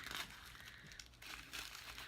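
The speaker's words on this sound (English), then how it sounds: "It's wrapped up in tissue paper." Tissue paper crinkles up close as jewelry from a subscription box is unwrapped, a steady dry rustle that swells in bursts with no voices over it.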